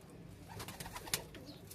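Pigeons in a breeding room give soft, low coos in a short, faint burst, with no voices.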